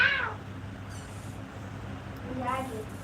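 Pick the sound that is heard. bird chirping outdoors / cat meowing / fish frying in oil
cat meowing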